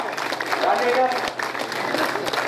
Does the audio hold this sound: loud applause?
yes